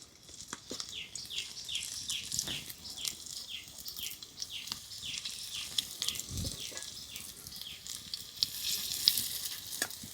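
Semolina snacks frying in hot oil, a continuous crackling sizzle with rapid bubbling pops that stays steady and close for the whole stretch, with a few soft knocks underneath.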